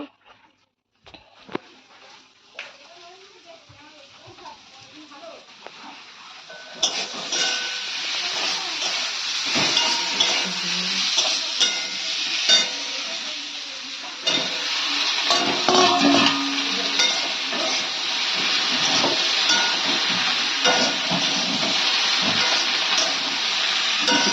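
Continuous sizzling hiss of okra frying in hot oil in a pan, starting quieter and growing louder, with occasional clinks of a utensil.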